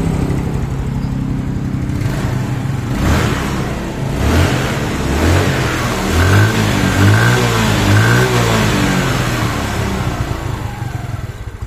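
A Yamaha Mio motorcycle engine with a leaking exhaust runs loud and close, its idle rising into several short revs that pulse and fall back, with no talking.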